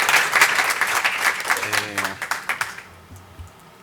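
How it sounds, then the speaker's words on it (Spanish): A lecture hall full of people applauds a professor, a dense burst of clapping that thins out and fades over a few seconds, with some voices beneath. "damos un aplauso al profesor"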